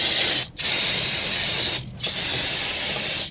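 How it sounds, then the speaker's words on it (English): Brake cleaner aerosol sprayed onto a van's brake caliper: two loud, close, sustained hissing bursts, each a second or more long, separated by a brief pause. "Now let's take some brake clean,"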